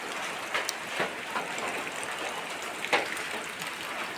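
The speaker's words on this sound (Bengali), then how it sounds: "এখনো বৃষ্টি হতে আছে" Steady, soft rain hisses evenly, with a few slightly louder drops or splashes now and then.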